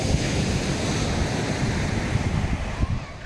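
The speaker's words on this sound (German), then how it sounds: "oh, eine schöne Brandung." Surf breaks and rolls onto a beach near a beach bar in Gazipaşa, a continuous roaring wash of waves with heavy wind buffeting the microphone throughout.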